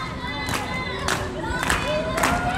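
A wrestling crowd at an independent women's show in Texas roars and cheers steadily, with sharper swells of shouting recurring about every half second over a constant loud din.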